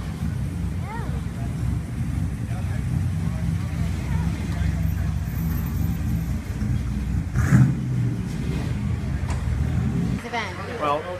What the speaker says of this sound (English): You don't get to see cars cruise up and down the street anymore.